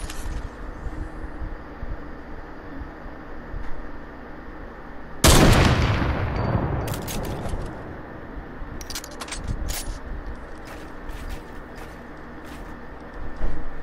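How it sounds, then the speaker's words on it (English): A sniper rifle shot cracks loudly in a Fortnite solo match, followed by a long decaying echo and a few sharper, quieter clicks and shots afterward against steady game background noise. "Alright, so I just saw someone shoot at me."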